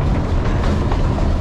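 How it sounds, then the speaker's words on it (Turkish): A tourist train runs through a park in Eskişehir with a steady, loud rumble and a rhythmic clickety-clack throughout. No one speaks. "Evet, trenimiz hareket etti."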